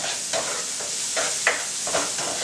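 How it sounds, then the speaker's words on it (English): A steady, bright hiss of onions sautéing in a pan fills the clip, broken by soft clinks and stirring scrapes at irregular intervals, close by. "I'm going to put the onions in first. Oh yeah, listen to that sizzle."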